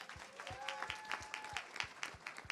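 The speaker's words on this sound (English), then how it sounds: "give her a round of applause, yep" Applause from an audience at a live Detroit tour event, steady and moderately close, with a few spaced louder claps and a faint tonal whistle or voice drifting over it.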